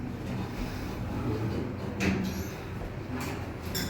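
An elevator door slides open with a soft mechanical rumble and brief swishing bursts over a steady low hum inside the lift.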